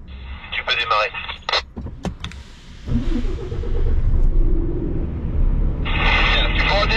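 A Renault T truck engine cranks and fires up during a technical inspection, settling into a loud, deep, steady idle rumble, with voices talking nearby before and after.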